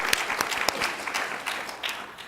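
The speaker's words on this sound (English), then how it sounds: "Can we give them a round of applause for giving of their time?" An audience at a middle school scholar bowl gives the volunteer judges a round of applause, with several distinct sharp claps standing out over a steady wash of many hands, tapering slightly toward the end.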